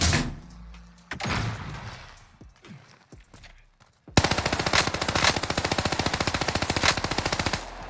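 Rapid automatic gunfire from weapons in the video game Call of Duty: Vanguard, a loud sustained burst of evenly spaced shots after a quieter stretch of scattered game sounds.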